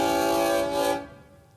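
An incoming Queensland Rail train sounds a short, loud, steady horn blast that cuts off and fades away within about a second and a half, with no talking.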